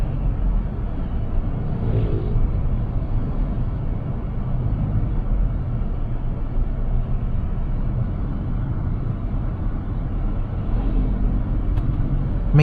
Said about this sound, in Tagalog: Nakaka-relax talaga mag-drive dito sa